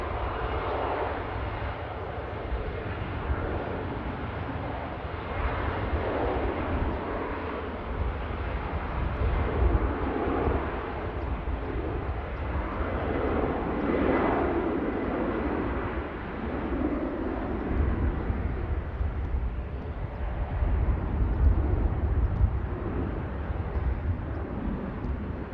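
A TAP airliner taking off from Manchester Airport, its broad jet engine roar steady and sustained at a distance, swelling slightly near the end, with wind rumble and no talk.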